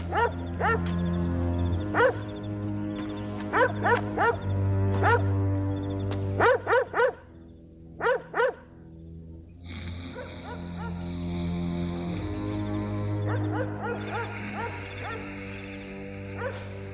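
A dog barks repeatedly in clusters of sharp yips and whimpers over a steady low background, with a brief quiet gap before more barking.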